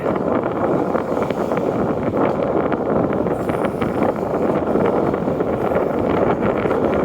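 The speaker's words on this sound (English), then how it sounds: "Very windy up here. It's always windy up on this bridge." Strong, steady wind buffets the microphone throughout on the Macdonald Bridge, a dense roar of gusting rumble that never lets up.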